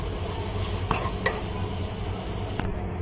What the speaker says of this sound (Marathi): आता यात तयार केलेलं वाटण मिक्स करून घेऊयात.